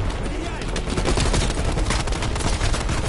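Dense, continuous automatic gunfire in Call of Duty Cold War, loud and close, with rapid bursts overlapping into a steady roar for the whole stretch.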